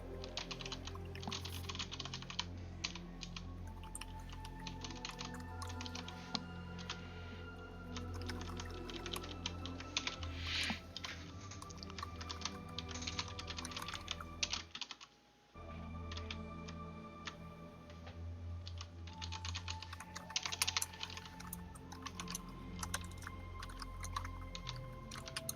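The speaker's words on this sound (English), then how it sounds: "Veritas Ariel is typing." Steady typing on a computer keyboard, a dense stream of light key clicks and taps at close range, continuing with a brief pause midway and no voices.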